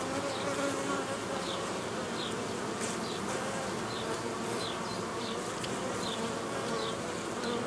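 A dense, steady buzz of many honeybees inside a hive, close and continuous, with no voices.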